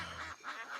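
Close ducks quacking in a quick series of three nasal calls, loud and near with a brief low rumble at the start and no voices.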